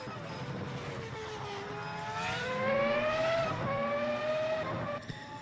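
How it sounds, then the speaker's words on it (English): V10-engined VFX 17 race cars in the RaceRoom simulator roar steadily at high revs, the engine pitch sweeping up and down through gear changes, with a brief tyre squeal and a sudden cut near the end; no talking. "we have the VFX 17 cars with a V10 engine."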